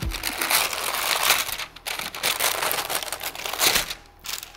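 Close crinkling and tearing of parchment paper in a kitchen while making tomato soup, bursts of crackly rustling with brief pauses between them.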